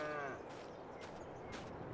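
A cow in the video game Farming Simulator 22 gives a short low moo at the start, followed by a couple of brief faint noises against a quiet rural background.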